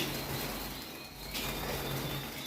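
Young canaries, about 31 days old, coo and chirp softly in an aviary amid a constant noisy background, with faint flutters and calls scattered throughout.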